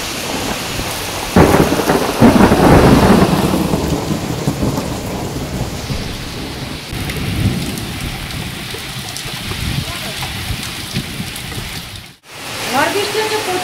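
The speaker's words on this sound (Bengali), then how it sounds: "ঝড় বৃষ্টি হচ্ছে, প্রচুর ঝড় বৃষ্টি" A loud, close thunder rumble rolls in early over a heavy wash of rain pounding nearby surfaces during a storm with high wind and possible hail, the downpour continuing throughout with a brief dropout near the end.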